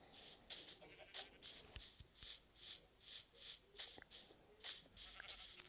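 Sheep in the Minecraft video game bleat in a quick, regular series of short, soft cries, repeating about every half second with no speech over them.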